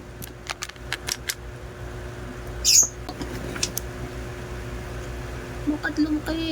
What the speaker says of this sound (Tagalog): May makulit talagang ibon